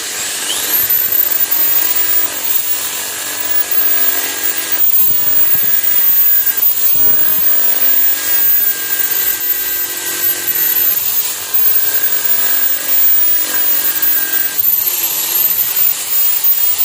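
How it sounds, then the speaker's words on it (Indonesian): Steady, rhythmic scratching of sandpaper rubbed back and forth across a surface, close and continuous for the whole stretch. "Kita ambil amplas, lalu kita ratakan di permukaannya seperti ini"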